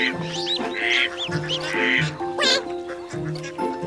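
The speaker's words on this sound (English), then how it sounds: "the mommy duck just quacks to get them back" Ducks quack repeatedly in a busy, overlapping chorus, nasal calls coming in quick bursts close by.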